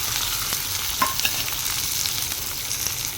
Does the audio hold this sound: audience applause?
no